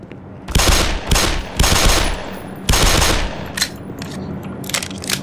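Pistol shots in Black Mesa, a handful of sharp separate cracks each trailing off into an echoing tail, fairly loud against a quiet background.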